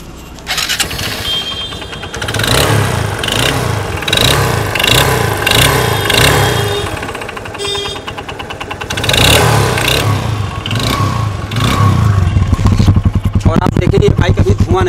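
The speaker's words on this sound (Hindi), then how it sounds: "अब मैं आपको स्टार्ट करके दिखा देता हूँ।" A motorcycle engine with a crank fault, standing in neutral, cranks and fires, then idles and revs in repeated bursts for the full length, loud and close, with someone talking over it now and then.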